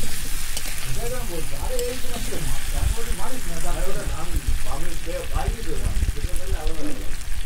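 Egg and potato curry sizzles and fries in a pan while being stirred and scraped, a loud, close, continuous sizzle with rhythmic stirring knocks, with a voice talking over it.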